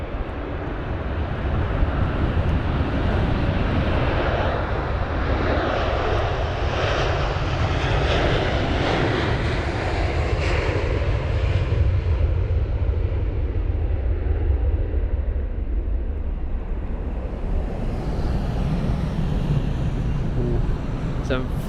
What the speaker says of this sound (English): Some very loud engines on the A300 freighter.